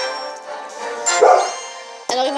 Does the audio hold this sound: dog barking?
yes